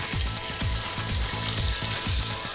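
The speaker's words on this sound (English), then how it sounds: "let's add the chopped onion." Steady crackling sizzle of chopped onion frying in hot oil, continuous and close, with faint stirring underneath.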